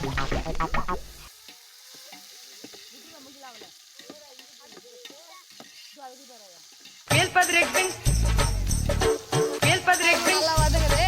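Onions frying in ghee with cinnamon, cloves and bay leaf for chicken biryani: a quiet stretch with faint chirpy voices gives way to loud, close, crackling sizzle and stirring that fills the last few seconds.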